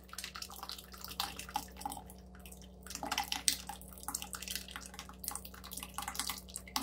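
Cooked, mashed lentils poured from a pressure cooker into a pot of drumstick sambar make a run of soft, wet drips and splashes at close range, with a faint steady hum beneath.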